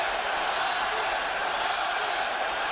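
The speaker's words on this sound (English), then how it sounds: "Listen to this crowd." A boxing arena crowd at a hometown fight against an Australian, roaring as a steady, dense wall of cheering that stays loud and unbroken throughout.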